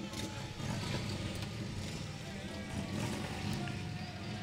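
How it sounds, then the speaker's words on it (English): Engines of the American Legion Riders' motorcycles rev and rumble behind marching ROTC cadets in a downtown Santaland holiday parade in Garden City, a steady loud low drone with street crowd ambience. "we hear the revving of those engines coming up behind our dapper group here"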